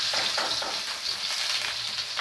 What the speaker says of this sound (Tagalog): Kumakalamsik.